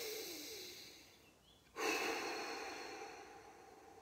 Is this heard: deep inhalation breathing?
yes